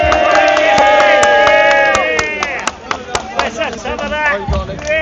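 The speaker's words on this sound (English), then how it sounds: "Come on, give a round of applause" Crowd applause and cheering at a protest against digital ID on Downing Street, a dense patter of claps with some whoops, over a loud tonal musical backdrop and voices.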